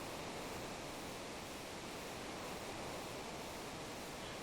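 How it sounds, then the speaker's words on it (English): A waterfall rushes steadily in a video game, a dense, even roar of falling water that holds constant and loud throughout with no other sounds. "Wait, do you hear that? Yeah, sounds like a waterfall."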